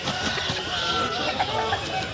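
A rooster at a busy weekly poultry market sounds amid a dense crowd din, its call blending with clucking fowl and murmuring voices throughout the short stretch.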